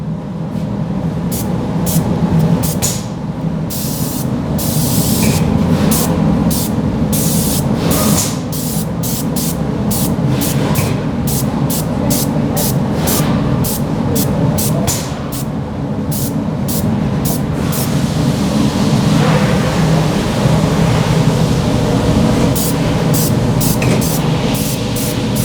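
Mopar undercoating hisses from a spray can in a long run of short, sharp bursts, loud and close, over a steady background drone with no talking.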